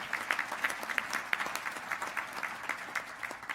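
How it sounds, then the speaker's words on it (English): Applause from a seated audience at a governors' winter meeting opening ceremony, steady rhythmic clapping at moderate, somewhat distant level throughout. "give him a great round of applause"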